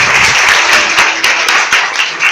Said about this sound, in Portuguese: Aplaude o Senhor Jesus.